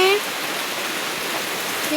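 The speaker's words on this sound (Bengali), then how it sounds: "কি জোরে বৃষ্টি হচ্ছে এখানে" Heavy rain falls hard outdoors near a courtyard tulsi platform, a steady, loud, unbroken hiss with no pauses.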